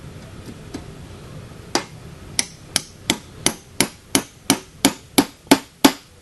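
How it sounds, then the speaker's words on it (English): A series of sharp metallic taps as a hammer drives a chisel against glazing points in a wooden window frame, about a dozen evenly spaced strikes growing steadily louder, with no talking. "take your hammer and your chisel,"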